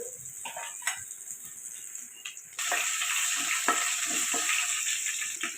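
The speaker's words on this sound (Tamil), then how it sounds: "வெங்காயத்தையும் சேர்த்து நல்லா வதக்கிக்கலாம்." Onions sauté in a pan with fennel seeds and vegetables for a South Indian dish. A soft sizzle with stirring taps jumps to a louder, steady frying hiss partway through, and scraping stirs continue close by.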